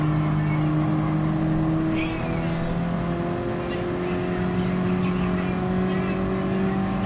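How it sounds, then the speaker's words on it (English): Racing car engine revving in a Gran Turismo video game, a steady high drone with shifting pitch, loud and continuous throughout. "Sound of this car is pretty nice."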